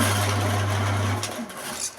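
Electric motor of a faulty machine with a broken lever hums steadily and loudly, then cuts off after about a second and a half, leaving quiet room noise.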